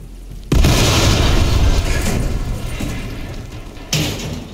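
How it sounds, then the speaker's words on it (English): In an intense one-on-one shooter video game match, two loud, heavy explosion booms go off close by, the first opening a long rumbling decay and the second erupting near the end. "Ignore that explosion."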